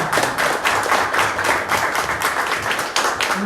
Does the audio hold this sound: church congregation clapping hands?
yes